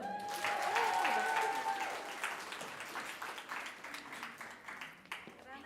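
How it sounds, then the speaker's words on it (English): A crowd applauding steadily, dense clapping that starts loud and gradually thins out over several seconds. "Can we please have a round of applause?"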